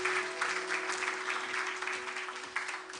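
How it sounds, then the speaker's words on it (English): Moderate applause from a conference audience at a closing ceremony, steady clapping for a few seconds beneath a faint constant hum. "Give them a big round of applause."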